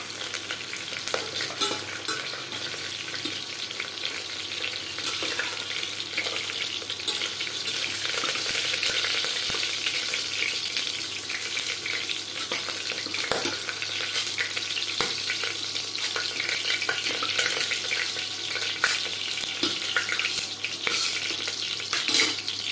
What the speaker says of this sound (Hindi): और एक बार फ्राई कर ले। एक बार में नहीं हुआ।